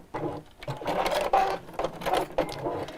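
A sewing machine runs a couple of stitches in reverse at a seam while quilting a pouch, its close motor buzzing in several short, uneven bursts with brief pauses between.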